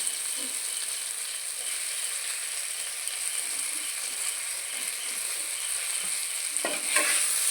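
Fried eggplant cooking with chopped onion and green chili in a pan, a steady soft sizzling hiss that runs throughout, capped by a brief scrape of stirring near the end.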